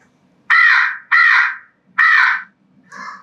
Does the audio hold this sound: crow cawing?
yes